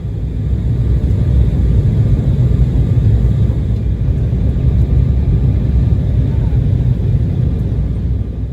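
Delta Connection Embraer E175 jet on the runway before takeoff from Salt Lake City, a loud, steady low engine rumble heard from inside the cabin with no other sound.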